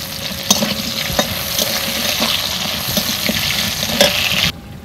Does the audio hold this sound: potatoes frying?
yes